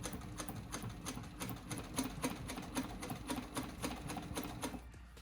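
A sewing machine double-stitches a custom Honda Shadow motorcycle seat cover with purple diamond stitching, giving off a fast, even mechanical clatter of needle strokes that runs close and steady before stopping near the end.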